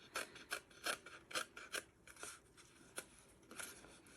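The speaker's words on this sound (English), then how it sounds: "If you prefer the smaller scissors here, I'll just show you what that will be like." Small scissors snipping through fusible applique fabric, a quiet close series of rhythmic rasping cuts, roughly a dozen short strokes with brief pauses between them.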